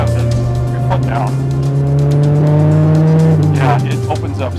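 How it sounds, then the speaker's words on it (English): An Integra Type-R clone with headers and an exhaust leak revving up toward about 5,000 RPM, a loud, close engine note climbing steadily, then easing off with a rough edge. "there's a blatting noise and the entire car sort of stumbles or hesitates"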